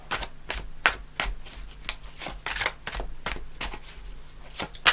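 Tarot cards are shuffled in quick bursts of riffling and flicking, repeated rhythmically at close range with quiet pauses between.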